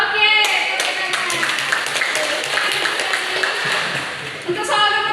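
Schoolchildren clapping together in a classroom, a brisk burst of applause with a teacher's voice and chatter around it, the clapping dipping briefly before resuming near the end.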